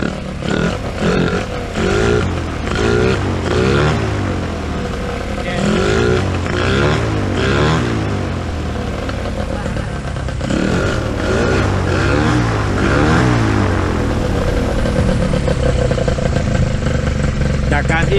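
Paramotor engine revving hard during a torque test, loud and close with rising and falling pitch sweeps, while someone talks over it.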